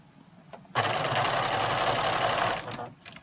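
A sewing machine runs steadily for about two seconds, stitching a seam on a 6.5 inch quilt block, its close, even motor whir starting and stopping abruptly amid quiet handling of fabric.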